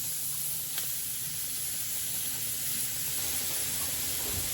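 Chopped onion fries in hot bacon grease with flour, giving a steady, even sizzle and hiss close by with no talking.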